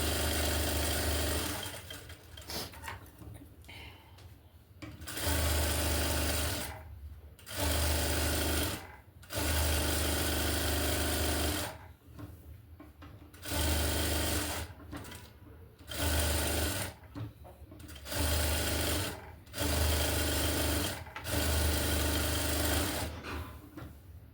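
Sewing machine stitching a blouse's lining to the blouse piece, running in repeated bursts of steady whirring separated by short pauses, close and loud with no talk.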